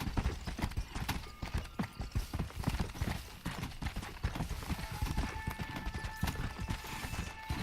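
Horse hooves clip-clop steadily at a brisk, continuous rhythm while riding in the video game Red Dead Redemption, close and fairly loud, with faint game ambience and occasional tonal sounds underneath.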